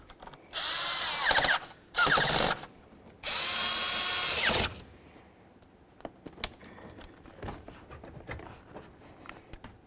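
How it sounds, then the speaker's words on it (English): A power tool snugs hose clamps on the throttle body of a 2003-2007 Chevy Silverado, whirring loudly in three close bursts of about a second each, followed by quieter clicks and handling noises. "Now we're going to snug up our clamps."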